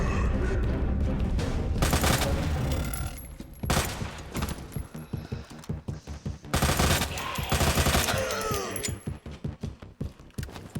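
Gunfire in Resident Evil 2 Remake comes in loud automatic bursts broken by short pauses, with sharp repeated shots and a voice heard faintly beneath.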